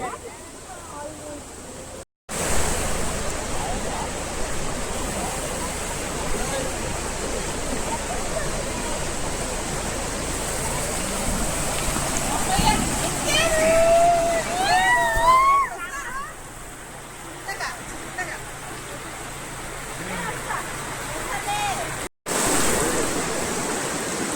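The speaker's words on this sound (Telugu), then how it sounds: "iron bridge back side fresh water flow అవుతుంది, కొండల్లోంచి వస్తుంది" Fresh water from the hills rushes steadily behind an iron bridge in a green forest, a constant broad wash of flowing water close by with a brief voice rising over it midway.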